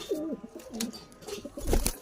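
Pigeons cooing close by in a loft with squabs, a run of soft, rolling low coos repeating through the clip, with a brief louder rustle near the end.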